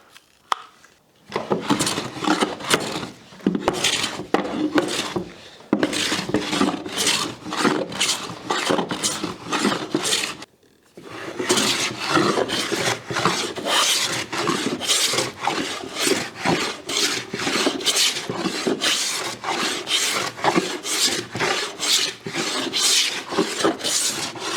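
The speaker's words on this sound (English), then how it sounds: "and let's get planing" Hand plane shaving the face of a cherry wood board, a steady run of close, loud rasping strokes one after another with only brief pauses between passes.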